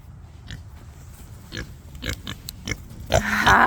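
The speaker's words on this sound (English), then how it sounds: "That's a happy pig." A happy pig on a small farm gives a series of short, close grunts, loud and irregular, with snuffling between them and a louder burst of grunting near the end.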